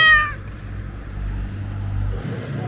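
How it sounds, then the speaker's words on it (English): A cat gives one loud, close meow at the very start, then a low rumbling background continues without further calls. "I have the cat."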